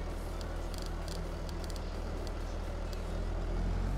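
A truck in the Farming Simulator 22 video game drives with a steady, dense engine rumble and drone, joined by faint clicking ticks, with no voices over it.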